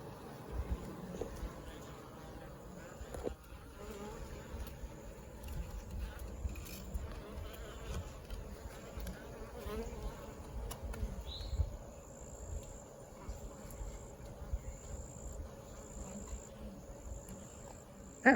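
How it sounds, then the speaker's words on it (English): Bees in a beehive produce a faint, steady insect buzz and hum, with scattered light clicks over a low background rumble. "inside you can see the bees hard at work."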